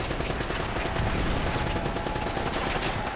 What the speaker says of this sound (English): Yeah, that machine gun is killer.